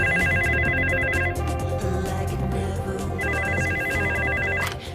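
A telephone rings in a loud, repeating electronic pattern, two bursts of ringing separated by a pause, over background sound in a dramatic French setting.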